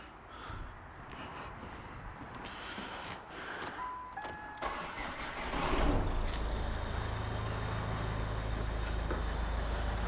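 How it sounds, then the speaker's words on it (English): A Ford Mondeo with intermittently failing rear lights starting up, quiet background noise and a few clicks before the engine catches and settles into a steady low idle that continues to the end. "Let me start the car"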